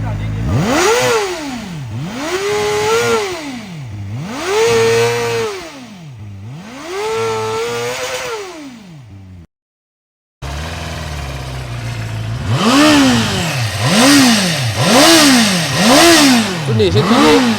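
In first gear, a KOVE 450RR motorcycle engine is blipped again and again in a steady rhythm, each rev rising and falling loudly up close, with a brief silent gap before the revving resumes.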